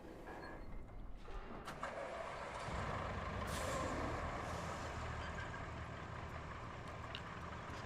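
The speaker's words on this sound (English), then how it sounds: "let's go get a big old dump truck." Big dump truck in the RoadCraft video game, a steady loud diesel rumble that swells with a brief hiss like an air brake, running continuously throughout with no talk.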